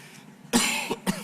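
Someone speaking at the closing of a national congress coughs twice in quick succession: one long rough cough, then a short second one, close and clear with no talk.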